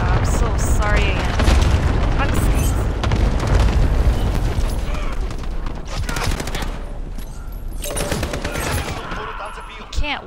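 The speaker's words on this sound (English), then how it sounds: "Oh no, I threw a grenade." Loud, dense gaming battle noise with a grenade blast in Call of Duty: heavy low booms and crackling gunfire fill the whole stretch, dipping briefly near the end before another burst.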